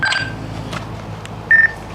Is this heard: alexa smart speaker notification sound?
yes